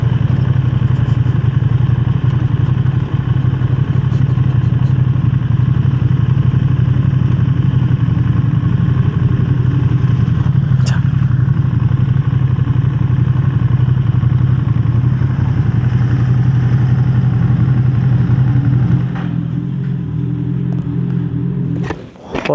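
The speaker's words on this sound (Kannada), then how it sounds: "ಹಾರ್ಲಿ ಡೇವಿಡ್ಸನ್." A Harley-Davidson motorcycle engine runs steadily with a deep, loud rumble that holds for a long stretch, easing down near the end with a few faint clatters.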